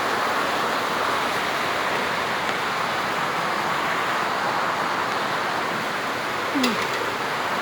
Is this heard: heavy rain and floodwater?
yes